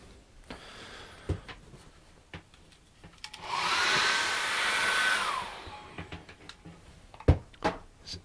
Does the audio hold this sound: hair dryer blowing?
yes